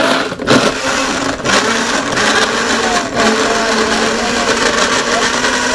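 An Imarflex IB-250P 3-in-1 Blend to go blender blends fruits with a loud, steady motor whir that runs the whole time, with brief dips, while a person talks over it.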